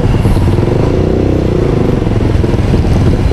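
A motorcycle engine runs loud and close with a steady, throbbing rumble, like idling or creeping along in traffic.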